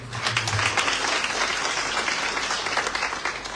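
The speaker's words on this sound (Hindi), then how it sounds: "तो जोरदार तालियां पहले।" Loud, dense applause from an audience at an International Women's Day function held in a zonal hospital in Himachal, a continuous rattle of many hands sustained evenly throughout.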